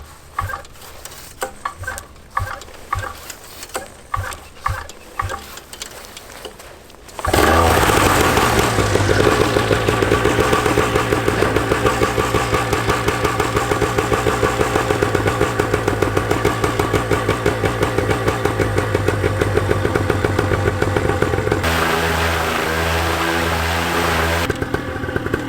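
A newly installed Moster 185 Plus MY25 paramotor engine sputters through several pull-start attempts, then fires up and settles into a loud, steady, buzzing idle, with its tone shifting near the end.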